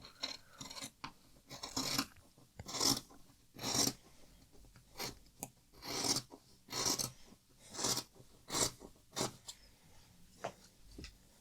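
Scissors snipping through silk fabric while cutting a dress pattern, a steady run of crisp, close cuts repeating roughly every half second to second, quiet, with no talking.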